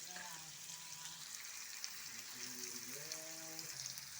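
Chopped onion and garlic sauté in a pan for a spaghetti sauce, giving a steady, faint sizzle while someone talks over it.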